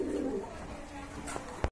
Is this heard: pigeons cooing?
yes